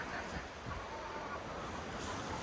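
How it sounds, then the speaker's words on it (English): Strong gusty wind blows outdoors on a day with gusts over 55 km/h, a continuous broad roar with slight swells in strength, moderately quiet and heard alone. "It is a windy day, folks."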